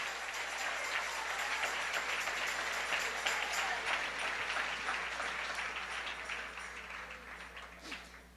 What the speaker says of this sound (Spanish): Dale un aplauso al Rey en esta linda y preciosa mañana